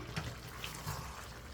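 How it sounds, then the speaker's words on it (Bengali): Hot water pours into a pot of braised broiler chicken curry with a low, steady watery rush, faint and close, with no voices. "গরম পানি দিয়ে দিব"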